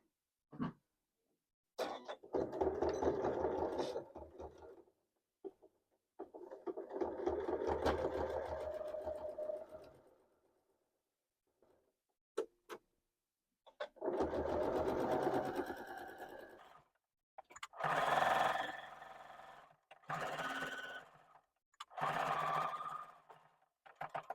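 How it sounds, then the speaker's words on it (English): A sewing machine stitches binding onto a quilt a quarter inch from the edge, in several separate bursts of close, fast mechanical whirring split by short pauses of silence. "And now I'm just going to stitch from where I'm starting with that tail down to the corner a 1/4 inch from the very edge."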